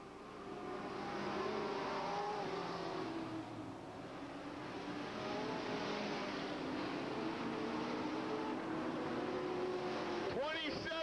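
Sportsman race cars at Hales Corners Speedway roar steadily in the distance through a continuous, muffled engine drone, with a commentator talking over the noise.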